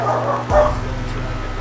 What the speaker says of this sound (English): Shut up, shit ass dog.